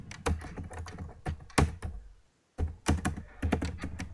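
Fingers tap out HTML code on a computer keyboard, a close sequence of crisp key clicks in quick clusters, broken by a brief silent pause before the typing resumes.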